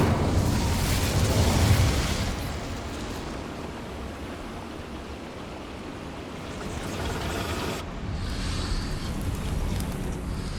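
Incendio fire spell cast in the game Hogwarts Legacy, a roaring burst of flame that rushes out loud at first, then settles into a sustained windy crackle with a fresh flare near the end.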